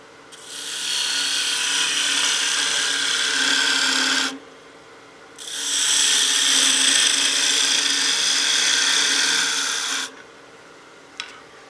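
A skew chisel takes peel cuts on a wine glass spinning on a wood lathe, a loud steady rasping scrape in two long passes separated by a short gap, with a small knock at the end.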